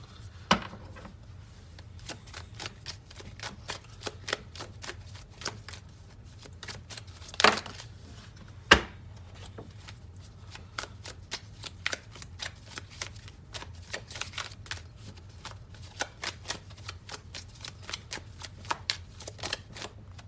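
Tarot cards are shuffled and handled close up, giving soft, rapid riffling and flicking with scattered sharper card snaps over a quiet room hum.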